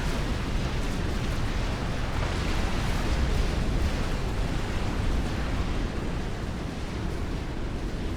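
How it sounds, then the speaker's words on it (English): An HQ building explodes in Supreme Commander: Forged Alliance, during a 4v4 battle in which naval units shell it. It makes a loud, sustained roaring rumble that stays dense and even for the whole stretch. "Cinematic shot as boom, the HQ explodes"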